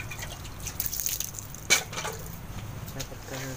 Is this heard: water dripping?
yes